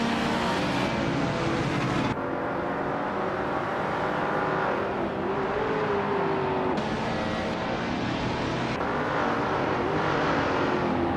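Race car engines in a racing video game, led by a classic 1962 Ferrari 250 GT, as the race starts at New Jersey Motorsports Park. Loud, continuous engine roar shifts pitch through gear changes, with other cars droning close by.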